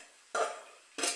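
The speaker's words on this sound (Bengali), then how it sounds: "চিংড়ি মাছটাও এখন দিয়ে দেবো, দিয়ে ভালো করে কষাতে থাকবে।" Prawns fry in a pan in a Bengali kitchen while a spoon scrapes and stirs them in two short strokes under a soft frying sizzle. The sound is close, and no one speaks.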